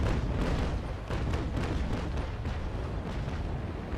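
A frigate fires a cannon broadside in the naval video game Naval Action Legends, a dense run of rumbling booms that roll together loudly and close for several seconds, with no speech.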